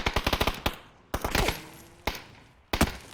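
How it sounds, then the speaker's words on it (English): In PUBG, a rapid burst of gunfire is followed by sharp single shots, one with a bright metallic ricochet ping off a rock, loud and close with no talking. "Pings off the rock in front of him."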